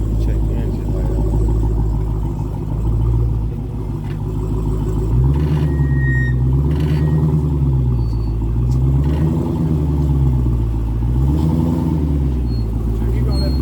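A rebuilt 2015 Dodge Challenger Hellcat idles with a deep, loud rumble, then its engine rises and falls in several slow revs up close, with people talking over it.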